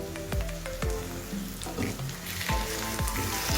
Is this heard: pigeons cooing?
no